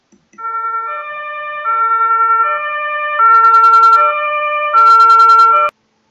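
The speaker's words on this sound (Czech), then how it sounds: "No a naposledy jste slyšeli sanitku." A two-tone ambulance siren alternates between high and low notes in a regular rhythm, loud and close, ending abruptly.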